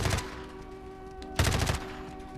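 Bursts of automatic gunfire from Call of Duty MW2 while the player jump-shoots, a short volley at the start and a louder one midway, with steady game hum between.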